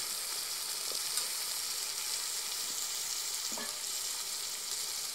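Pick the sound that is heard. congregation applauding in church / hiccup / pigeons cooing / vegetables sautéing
vegetables sautéing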